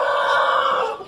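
A chicken lets out a single loud, sustained crow at close range during a morning feeding of backyard chickens, with no talking.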